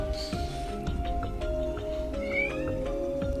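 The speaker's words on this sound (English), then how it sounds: "But sorry, my cat." A cat meows repeatedly and insistently nearby, drawn-out yowling cries over a steady background hum.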